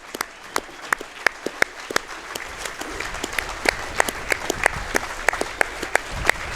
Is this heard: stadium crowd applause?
yes